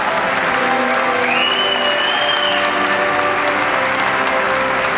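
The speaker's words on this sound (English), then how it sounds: "Ladies and gentlemen, would you please give our vets a nice round of applause?" An arena crowd applauds military veterans in a loud, steady, unbroken roar of clapping that holds evenly throughout, with a faint voice surfacing briefly in the middle.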